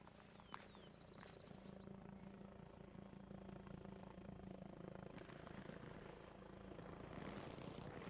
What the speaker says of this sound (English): They're all shooting at that helicopter right now.